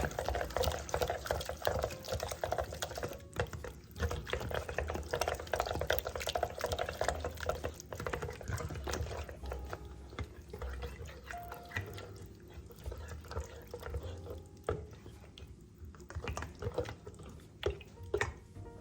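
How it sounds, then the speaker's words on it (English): A ground beef mixture is stirred in a pan: a steady, close wet sizzle and scraping runs throughout at a fairly even level, with no talk. "And I'm just going to stir this all around."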